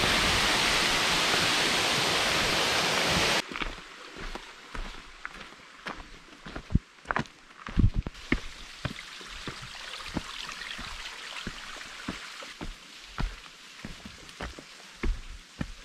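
A waterfall on Madeira island roars as steady broadband rushing water for the first few seconds, then cuts to quieter scattered drips and splashes with intermittent taps, like wet footsteps close by.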